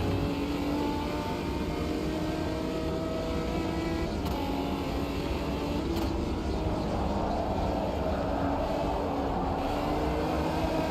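A V8 race car engine in a racing video game drones steadily at high revs, a continuous buzzing roar that holds pitch with small shifts, loud and alone without talk.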